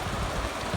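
Steady rain falling outdoors on a farm where cattle graze, a dense even hiss with no breaks over a very short moment.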